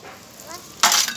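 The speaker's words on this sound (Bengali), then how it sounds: "পেঁয়াজ ভাজা হয়ে গেছে এখন দিয়ে দিব মাছ" Fried fish pieces tipped into a pan of fried onions, a soft sizzle that suddenly swells into a loud, bright burst of spitting oil.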